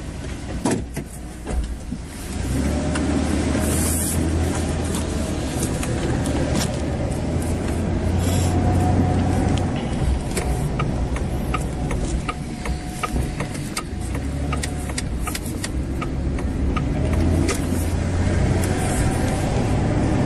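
Steady road and engine rumble heard from inside a moving car, a constant close drone with faint rattles and no talk.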